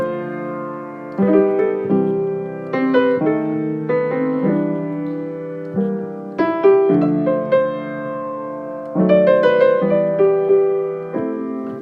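Solo jazz piano plays a ballad in simple triad voicings, sustained chords changing at an unhurried pace, each one struck clearly and left to ring, close and moderately loud with no voices.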